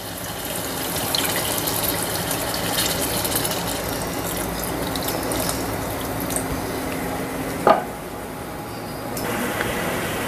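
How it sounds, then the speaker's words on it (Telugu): Tamarind gravy is poured into a pan of bommidayi fish curry on a stove turned to high, making a steady, continuous watery rush. A single brief clunk is heard near the end. "ఇప్పుడు స్టవ్ హైలో పెట్టి ఈ పులుసు పోసేద్దాం"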